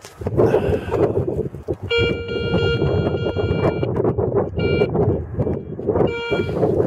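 Steady electronic beeping tones from a metal detector picking up a target near the surface sound in short repeated stretches over a constant bed of wind and rustling noise outdoors.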